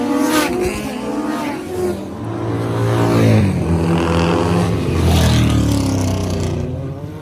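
Racing vehicles at the Burt Munro street races, a loud, sustained engine roar with rising and falling revs as machines pass close by, continuous throughout with no talk.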